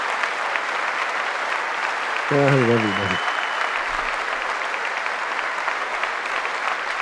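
Applause from a packed chamber at the State of the Union address, a steady, dense roar of clapping lasting throughout, with a voice speaking briefly in the middle.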